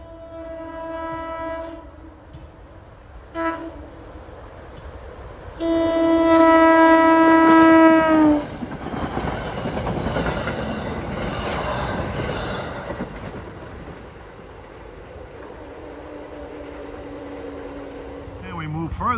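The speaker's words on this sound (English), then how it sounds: "here comes train 726 from Gladstone to Summit" Passenger train 726 on the Gladstone Branch toward Summit, New Jersey, sounds its horn in repeated blasts, then rumbles past with rolling wheel and car noise that fades, with a brief horn note again at the end.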